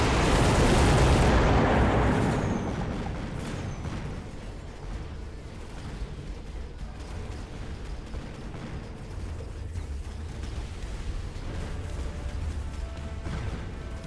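In the Mechabellum strategy game, a loud explosion bursts at the start and rumbles away after about two seconds. A busy battle din of mechanical clatter and smaller blasts continues beneath it.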